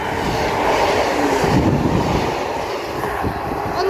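Two-carriage Class 150 passenger train, units 150136 and 150113, rumbling through Clifton station, a loud, close, continuous roar of wheels and engine with faint clatter, no voices over it.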